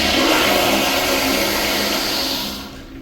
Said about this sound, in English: Now let's have a look at ball rinse.